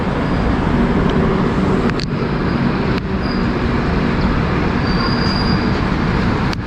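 The Howrah CSMT Duronto Express rolls out of the station, a steady loud rumble of wheels on rails with a few rhythmic clanks at rail joints and faint squeals, heard continuously from inside the train.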